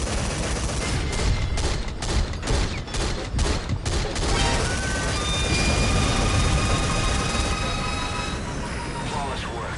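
Metal Gear Solid V battle with an enemy gunship, full of loud, sustained rapid gunfire bursts and heavy rumbling, with a voice speaking over the din and a whining tone rising later.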